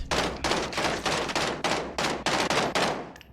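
Gunfire in the video game Warzone: loud, close bursts of rapid automatic shots, about eight separate volleys in steady succession with brief gaps between them.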